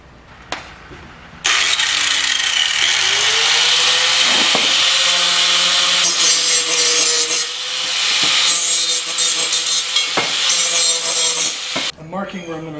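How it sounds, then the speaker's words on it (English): Angle grinder grinding off the cut ends of metal parts for a pickup truck bed lift, a loud continuous abrasive whine that starts abruptly, with pitch dips as the disc bites, then stops near the end. "Now I just got to grind off the ends that were cut and prepare them for welding."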